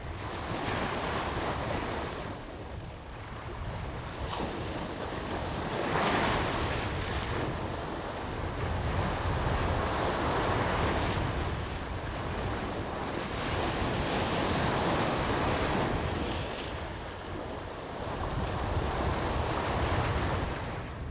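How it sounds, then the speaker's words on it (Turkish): Waves break on a shore in slow surges that swell and fade, mixed with steady wind buffeting the microphone and no voices. "Dalgalar vuruyordu kıyıya."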